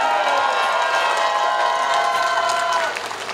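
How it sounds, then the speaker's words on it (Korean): Campaign rally crowd outside a department store cheering and applauding with sustained whoops and clapping, loud and dense, easing slightly near the end. "큰 박수 좀 부탁드리겠습니다"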